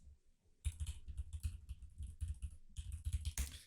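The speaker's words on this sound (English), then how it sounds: "Just like that, I type it down" Typing on a computer keyboard, close rapid bursts of key clicks with short pauses between, loud against a quiet background.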